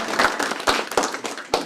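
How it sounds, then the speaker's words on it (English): A small audience in a hotel back bar applauds for George, a brief burst of close, uneven hand claps with distinct individual slaps, loud and unaccompanied by talk. "Nice round of applause for George."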